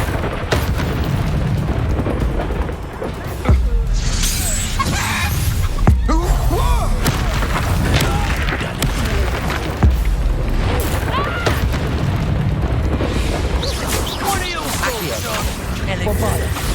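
Bombarda spell blasts in Hogwarts Legacy, repeated heavy booms and crashes over continuous loud battle noise, mixed with voices calling out spells.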